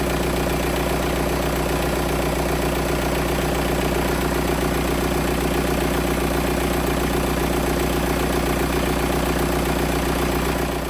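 A 2001 Volkswagen Beetle TDI diesel engine idles at a steady, even rumble, close and loud, with a faint rhythmic knock and no voices.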